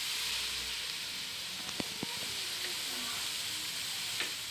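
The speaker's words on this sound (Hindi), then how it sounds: "फ्राई हो चुका है हमारा थोड़ा सा, अब सिरका ऐड कर देते हैं।" Frying noodles for chicken chow mein sizzle steadily as vinegar goes in, a dense close hiss with a few faint utensil taps and clicks.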